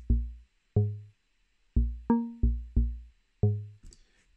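A short sequence from Ableton's built-in Operator synth: seven plucked, bassy notes in an uneven rhythm, each with a sharp attack and quick decay, followed by a faint glitchy flutter at the end, clean and dry.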